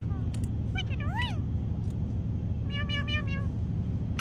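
A parrot mimics cat meows, several short rising-falling calls in quick succession over steady low background rumble.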